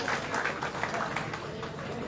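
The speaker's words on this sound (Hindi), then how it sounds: "जोरदार तालियों के साथ स्वागत" Audience applause welcoming a doctor to the stage at a BJP medical cell event in Faridabad, a steady wash of many hands clapping at moderate distance, fairly even throughout with a faint voice underneath.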